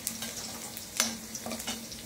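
Garlic browning in a pan for an okra dish: a faint, even sizzle with a few light stirring taps, close and quiet, with no one talking.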